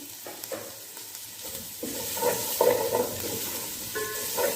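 Carrots sautéing in a pan for chicken hot and sour soup, a steady close sizzle with stirring scrapes and rising bursts of frying hiss, no voices.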